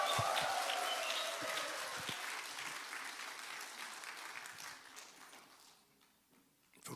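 Sustained crowd applause at a Sunday church service, dense and loud at first, then thinning and fading toward the end with scattered claps.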